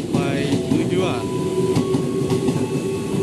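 A JR205 KRL commuter train running through Parung Panjang station, with a steady rumble, rhythmic wheel clatter and some squealing, close and fairly loud, plus faint voices in the background.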